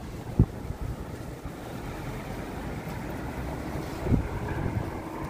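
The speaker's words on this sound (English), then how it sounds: "it's windy." Wind along 7th Avenue in New York City on the first day of spring, rumbling steadily against the microphone with a couple of sharp gusts and a low roar.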